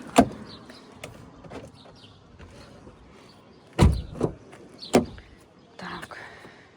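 The rear left door of a 2016 BMW X6 3.0 diesel unlatches with a sharp click, then a few heavier thuds and knocks follow, near and loud, separated by quiet stretches.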